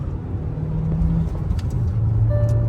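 A Hyundai Verna Turbo car driving in second gear, with a steady engine drone from inside the cabin and a low tone that climbs slightly as it pulls.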